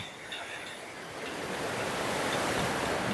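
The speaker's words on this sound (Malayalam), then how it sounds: "വെള്ളത്തിന്റെ ശക്തി നോക്കണേ" The Kalindi river in Thirunelli, Wayanad, rushes loudly and continuously past rocks, a broad steady roar that swells slightly, with no voices.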